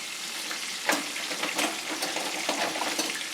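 Gluten-free fried chicken sizzles in hot oil as it is turned, a steady close frying hiss with a few louder splashy pops and faint clinks of the pan, no one speaking.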